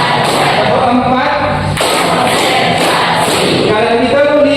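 A class of pupils claps together in a rhythmic run of four sharp, close hand-claps, alongside group chanting before and after the beats.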